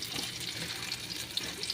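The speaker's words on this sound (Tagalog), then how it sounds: "Ayan, gigisa-gisa na ako." Soft, steady sizzling and crackling of chicken tinola ingredients sautéing in a pan, with faint stirring scrapes, heard close and quiet.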